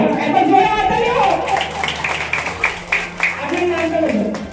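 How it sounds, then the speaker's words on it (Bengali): An audience at a children's quiz and impromptu speech competition at a health centre breaks into scattered clapping for a couple of seconds while a presenter talks over it on a microphone. "একবার জোরে হাততালি হোক"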